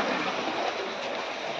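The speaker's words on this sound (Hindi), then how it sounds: "वर्षा होची" Steady rain falling outside a family home, a dense continuous broadband hiss with no distinct drops standing out, even and unbroken throughout.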